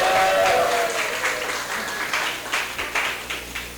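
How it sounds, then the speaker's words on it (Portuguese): Church congregation applauding the deacon during a sermon, a fairly soft wash of clapping with looser, uneven claps as it tapers off, with no clear talk over it. "Palmas para o diácono também."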